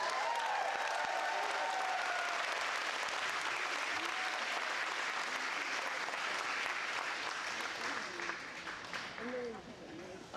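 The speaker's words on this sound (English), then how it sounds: "Another round of applause for our salutatorian, Mr. Tristan Min." A large crowd applauds at a high school graduation ceremony, dense clapping with some cheering that holds steady for several seconds, then thins and fades toward the end.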